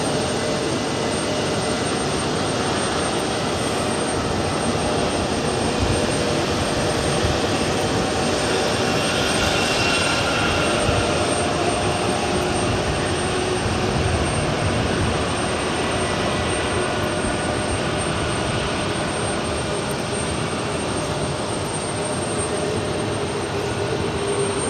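An Airbus A320 jet at JFK airport produces a continuous, loud broadband engine roar that holds steady throughout with no speech.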